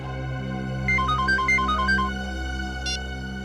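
A phone ringtone plays a short electronic melody of quick repeated beeping notes, then a brief final chirp, sounding over a steady low hum in an indoor scene.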